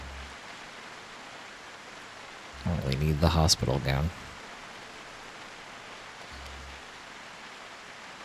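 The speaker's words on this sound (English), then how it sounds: "The rain sound is actually quite nice." Steady hiss of rain falling in the zombie survival game Project Zomboid, a soft even wash throughout, with a voice speaking briefly over it midway.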